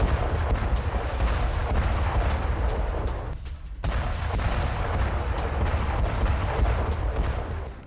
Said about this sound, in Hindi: एयर स्ट्राइक में हिजब का ठिकाना तबाह हो गया है